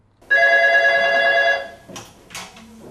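A telephone at a legal aid duty desk rings once with a bright, electronic tonal trill lasting over a second, loud and close, followed by faint handling clatter and rustle.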